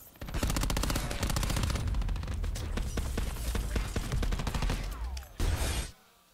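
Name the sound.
gunfire in Call of Duty video game match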